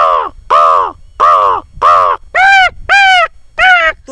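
A man imitates a crow's danger call with a series of about eight loud, harsh caws in a steady rhythm, each one short and separated by brief gaps, with no other sound.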